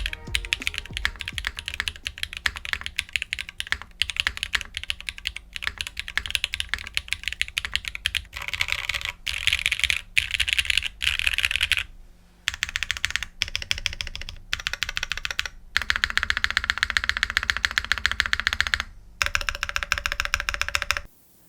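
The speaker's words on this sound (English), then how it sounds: "The sound signature of the Tempo leans towards the clacky side." A Mode Tempo mechanical keyboard is typed on steadily, giving a dense run of clacky keystrokes, close and bright, with brief pauses between bursts and no voices.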